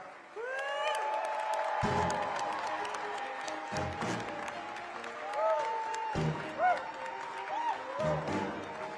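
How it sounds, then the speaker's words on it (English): Applause rises from an audience at the 2024 Palm Springs International Film Awards Gala as Emma Stone is introduced, sustained clapping mixed with scattered cheers and whoops, with music playing underneath. "please give a stirring round of applause for our beloved star"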